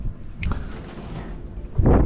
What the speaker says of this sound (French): Le vent monte un petit peu